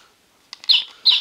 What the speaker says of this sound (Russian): Птица.